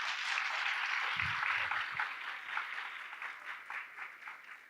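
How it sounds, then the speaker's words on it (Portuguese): Audience applause after a talk at an AdCombo affiliate-marketing event, a steady broadband wash of clapping from a crowd that holds for the whole stretch and thins slightly toward the end. "uma salva de palmas para ele"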